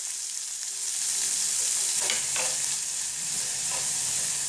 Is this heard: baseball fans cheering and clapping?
no